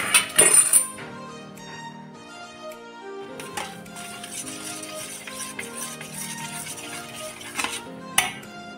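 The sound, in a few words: mixing sugar into yogurt in a bowl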